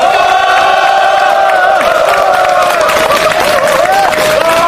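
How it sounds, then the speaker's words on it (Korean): A crowd at a union protest rally against Lone Star and Korea Exchange Bank claps and cheers to welcome party leader Sim Sang-jeong, loud and close, with sustained shouts and whoops ringing over steady applause. "힘찬 박수로 맞이해주시기 바랍니다."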